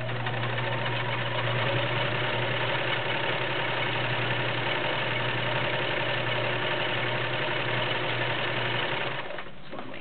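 An all-metal 1941 Kenmore convertible sewing machine runs continuously, a steady dense mechanical whir with a low hum, close and even for about nine seconds before easing slightly at the end.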